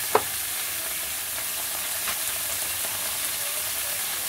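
Small squid sizzle in a hot pan with black pepper, giving a steady, close frying hiss broken by a few soft stirring scrapes.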